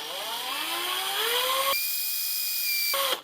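A power drill twists 26 gauge wire into a coil, its whine rising steadily in pitch as it speeds up, then cutting to a thinner tone and stopping. Close and continuous, with no talking.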